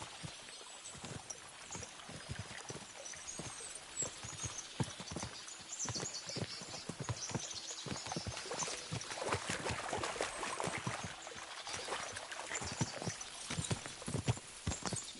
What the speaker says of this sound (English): As soon as we cross the stream, we'll give the horses a gallop again.